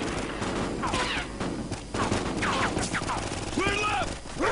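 Bursts of gunfire from the Call of Duty Ghosts single-player campaign crack and rattle in quick volleys, loud and dense throughout, with game voices calling out briefly between shots.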